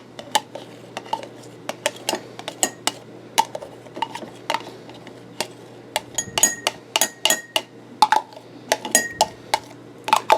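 Thick aloe vera gel is scraped out of a container, with a quick series of close utensil scrapes, clinks and knocks against the sides that comes in uneven bursts.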